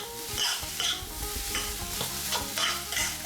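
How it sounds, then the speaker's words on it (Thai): Shrimp fried rice being stir-fried in a hot pan, a steady loud sizzle with repeated scraping strokes of the spatula tossing the rice, close and continuous with no talk. "ผัดคลุกเคล้าให้เข้ากันดีครับ"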